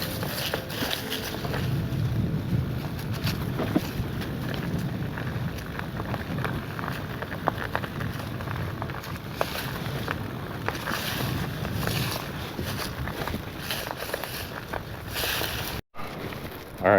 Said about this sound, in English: The wind is just horrible.